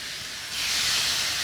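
Pork chops coated in a sweet barbecue rub hit hot oil in a pan on a stovetop, and a loud, steady sizzling hiss swells up suddenly and holds close by.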